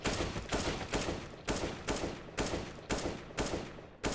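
Rapid rhythmic gunfire in Counter-Strike: Global Offensive, roughly eight evenly spaced bursts of shots in quick succession, loud and close, with no talk over them.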